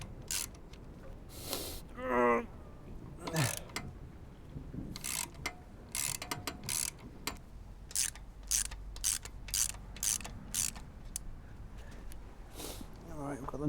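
A wrench working loose 14mm nuts while fitting R&G crash bars to a BSA Goldstar 650 motorcycle, giving a run of sharp metallic clicks and ratcheting ticks with brief pauses, close by, with people talking now and then.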